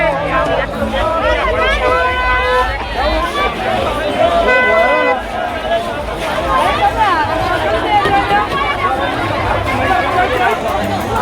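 A dense crowd chatters at a busy temple site, a loud hubbub of many voices with car horns tooting repeatedly nearby.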